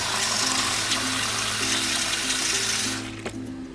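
Plain tap water pours into a glass mason jar, a loud, steady rushing stream with a faint tonal hum beneath it. It eases off near the end as the filling stops.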